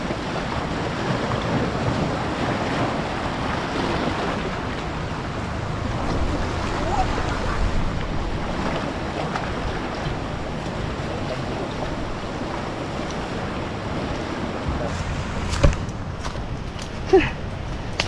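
Rushing water and wind wash steadily around a moving boat in big waves, with a few sharp splashes or knocks near the end as water comes into the boat.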